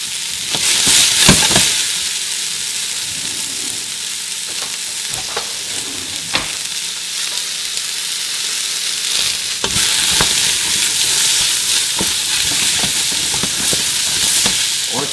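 Sweet potato and carrot sizzle loudly in a pan for a lentil curry, a continuous close frying hiss broken by repeated scraping and stirring knocks, with no talking.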